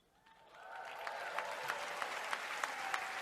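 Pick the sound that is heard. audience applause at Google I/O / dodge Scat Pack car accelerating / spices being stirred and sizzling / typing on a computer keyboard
audience applause at Google I/O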